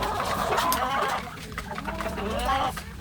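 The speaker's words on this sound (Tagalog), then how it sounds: "Ayan po yung mga pato." Ducks and other fowl on a farm crowd around feed, giving a busy, continuous mix of clucking and quacking calls close by, with scuffling underneath.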